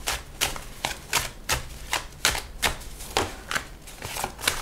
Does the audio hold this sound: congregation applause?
no